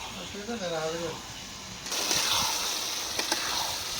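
Tomatoes frying in a pan with fresh koi fish, a soft sizzle starting midway after a voice, close and low-level.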